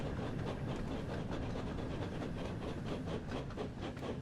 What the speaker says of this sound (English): This is a pretty long train.